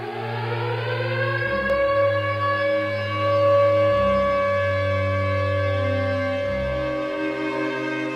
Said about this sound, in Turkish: Herkesin susup sirenlerin çaldığı o an.